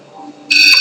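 A ghost detector device suddenly starts a loud, shrill electronic beep that holds steady until the end, after a faint low hum with no clear talk.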